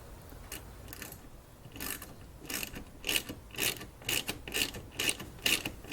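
A ratchet wrench clicks in quick bursts while bolts are tightened on a Hi-Lift jack mount on a Jeep Wrangler deck lid. The close metallic clicking grows more regular toward the end over a soft background hiss.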